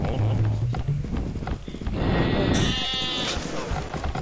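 A horse gallops in the Age of Empires strategy game, with rapid close hoofbeats followed by a brief whinny-like cry midway through the short burst.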